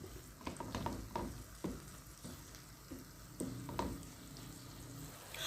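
Minced chicken being stirred in a frying pan, with a steady soft sizzle and irregular scraping knocks from the utensil, close but fairly quiet.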